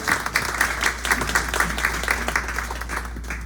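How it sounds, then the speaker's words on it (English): Clapping from an audience at a book launch event, steady and moderately loud, with individual claps audible in a close, smallish room over a low hum. "So let's give her a big round of applause."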